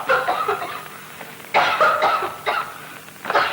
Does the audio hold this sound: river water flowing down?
no